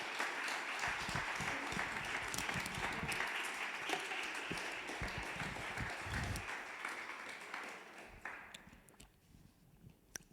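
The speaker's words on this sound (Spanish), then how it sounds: "Dele un aplauso al Señor por eso," Congregation clapping in a church after a sermon, a dense sustained wash of many hands lasting most of the moment before thinning out near the end, with scattered voices underneath.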